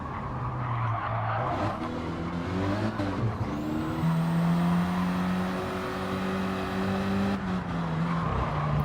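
Renault Clio Cup race cars at Circuit de Catalunya braking hard into turn 1, engines pitching down through the gears with tyre squeal as several cars pass close by, loud and sustained.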